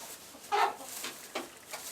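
Homestead chickens give a few short, soft clucks, one burst near the middle and a fainter one after, over quiet background hiss.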